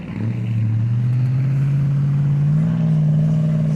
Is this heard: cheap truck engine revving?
yes